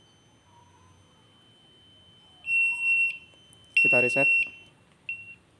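Electronic buzzer of a ship's BNWAS built on an Outseal Mega V1 controller sounds in three steady high-pitched bursts, the middle one overlapped by someone talking.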